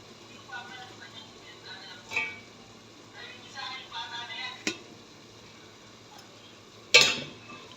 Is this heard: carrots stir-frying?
yes